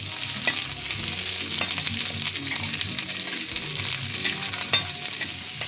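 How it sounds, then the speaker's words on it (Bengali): Cauliflower florets fry in oil until reddened, giving a loud, continuous close sizzle with occasional stirring clicks and scrapes, no speech over it. "ফুলকপিটা একটু লাল করে ভেজে নেবো।"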